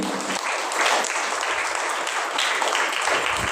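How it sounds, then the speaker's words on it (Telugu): A church congregation at a Sunday worship service claps loudly and steadily together, a dense, continuous wash of applause from start to finish. "గట్టిగా చప్పట్లు కొడదామండి"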